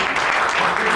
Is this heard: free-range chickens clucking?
no